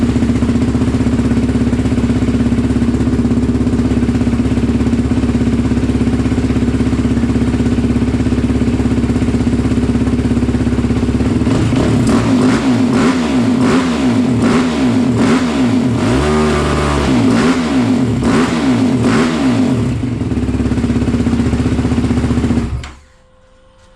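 A quad ATV engine, just refitted with a swapped fuel pump, idles steadily, then from about halfway through revs repeatedly in sharp rising and falling bursts, loud and close, before cutting off abruptly near the end.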